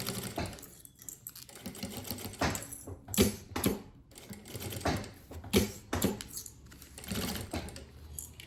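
A sewing machine runs in short, repeated bursts of rapid stitching through lining, mirror fabric and stabilizer for a mini suitcase, with brief pauses between runs, close and moderately loud.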